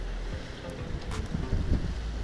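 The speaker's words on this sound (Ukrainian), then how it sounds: "Вітер, друзі, просто капець, так що будемо пробувати" Steady strong wind buffeting the microphone with a low rumble and gusty roar, no voices, constant throughout, on a small river in early winter.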